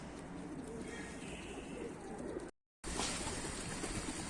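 Pigeons coo in a dense, steady chorus with rustling around a home loft, cut by a brief silence midway before resuming.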